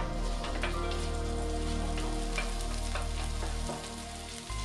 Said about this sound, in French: Faire revenir l'oignon 30 secondes.